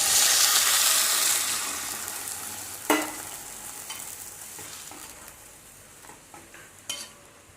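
Chana masala curry with chickpeas, potato, onion and water is stirred and fried in a pan, starting with a loud sizzle that fades while spoon scrapes and clinks sound at intervals.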